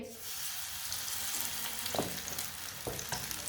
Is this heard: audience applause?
no